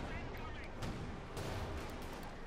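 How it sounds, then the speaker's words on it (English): Gunfire from the Company of Heroes 2 video game, aimed at an M10 tank destroyer: dense booming shots and blasts rumbling together in a busy battle mix, fairly faint under a commentator's voice. "we got the pack forward there firing at the M10 tank destroyer"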